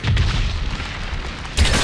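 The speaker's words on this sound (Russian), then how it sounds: "Из-за взрывов нас очень-очень сильно трясет." Explosions from the video game Crysis 3 roll on as a continuous deep rumbling boom that fills the whole stretch, with a fresh louder blast bursting in near the end; no one speaks.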